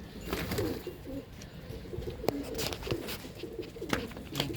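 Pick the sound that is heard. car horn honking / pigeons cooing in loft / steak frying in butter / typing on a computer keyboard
pigeons cooing in loft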